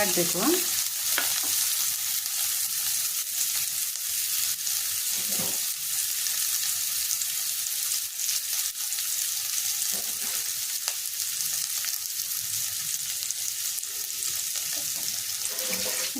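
Flour fries in a pan for an egg and chicken curry, a loud, close, continuous sizzle broken by a few scraping stirs of the spatula.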